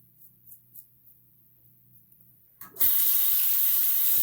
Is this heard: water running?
yes